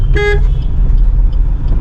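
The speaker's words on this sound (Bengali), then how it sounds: "হালকা হর্ন দিচ্ছি" A short car horn toot sounds once over the steady rumble of a running vehicle.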